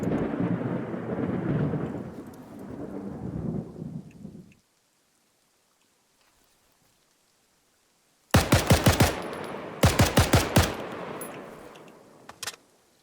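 Gunfire in the military game Arma 3 comes as two sharp, loud bursts of rapid automatic shots, each followed by a rumbling echo, after a stretch of distant rumble and a few seconds of near silence.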